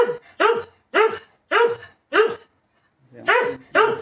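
A dog barking at a washing machine, loud close barks in a steady series of about seven sharp, evenly spaced woofs with a brief gap before the last two, no talking.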